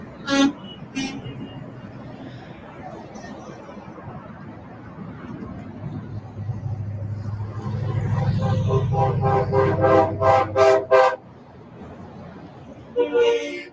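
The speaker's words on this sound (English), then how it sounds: "you're going to hear a lot of honking today." Vehicle horns honking from a trucker convoy, the People's Freedom Convoy to DC, a long rising rumble followed by a series of loud repeated blasts near the end, with some talk.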